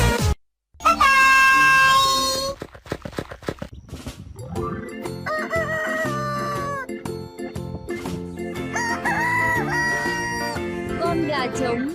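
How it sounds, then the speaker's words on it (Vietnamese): A rooster crows amid a children's animal-sounds song, with the call rising clearly near the start over bright bell-like chimes and steady backing music, as a voice speaks alongside. "Con gà trống."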